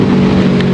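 A boat motor that sat unused in stock condition runs loud and close, a steady humming drone with no pauses over a short moment.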